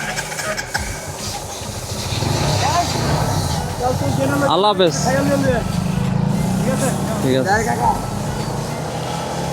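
A motorcycle, among a group including a Gixxer ABS, starts up for a ride from Bandar, Narayanganj toward Sajek; a steady low engine rumble rises and holds beneath close, clear conversation.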